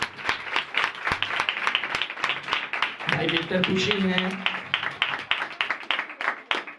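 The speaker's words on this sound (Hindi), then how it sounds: "भाई के लिए जोरदार तालियां बजाएं।" Applause from a church congregation honouring a brother after a prayer, a steady crackle of clapping running throughout with spoken words over it and a fuller swell of crowd noise midway.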